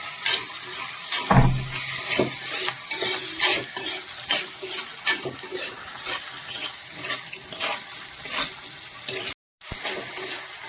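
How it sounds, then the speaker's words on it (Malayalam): Green chillies fry in hot oil, a loud, close sizzle running throughout with repeated scraping stirs and a brief gap near the end. "പച്ചമുളക് എണ്ണയിൽ കിടന്ന് നന്നായിട്ടൊന്ന് വാടി വരണം"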